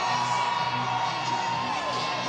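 A sold-out stadium crowd at a Savannah Bananas baseball game against the Party Animals in Columbus, Ohio roars and cheers, a dense sustained wash of voices with whoops rising through it.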